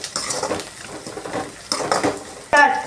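Curry leaves temper in hot oil in a pan for chicken gravy, giving a close, steady sizzle with scraping and stirring clatter, a few louder bursts, and a sharp metallic clink near the end.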